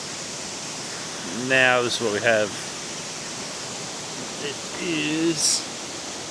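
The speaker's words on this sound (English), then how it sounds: "See this top of Kondilla Falls going before it drops down the 80 odd metres" Steady broadband rush of water at the top of Kondilla Falls, a waterfall with an 80 m drop, heard in misty cloud as a constant roar with someone speaking briefly over it.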